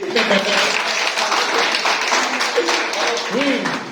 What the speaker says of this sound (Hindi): ताली बजा दो मेरे।